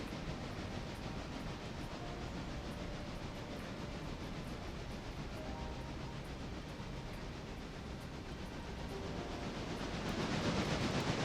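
A freight train runs in the Railroader video game, giving a continuous rolling rumble and hiss from the wagons that swells slightly louder toward the end.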